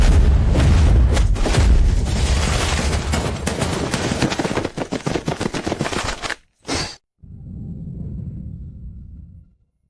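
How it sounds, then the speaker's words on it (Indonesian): Heavy bursts of gunfire aimed at a man, loud rapid volleys and booming shots packed together, thinning into staccato pops, then a short pause and a quieter low rumble at the end. "Tembak, buat dia penuh lubang"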